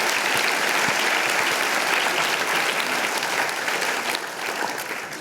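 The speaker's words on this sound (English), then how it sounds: "let's give a round of applause to all of our mentors here" Sustained applause from an audience honoring the mentors of a Penn State undergraduate invention team at an awards event, a dense steady wash of clapping throughout that tapers slightly toward the end.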